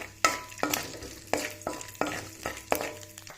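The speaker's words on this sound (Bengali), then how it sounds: "এখন দিয়ে দিচ্ছি একটা তেজপাতা, দারুচিনি, এলাচ, লং, হালকা একটু ফ্রাই করে নিব।" Bay leaf, cinnamon, cardamom and cloves fry in oil with a quiet sizzle, broken by regular stirring scrapes in a steady rhythm of about six strokes, close and without talk.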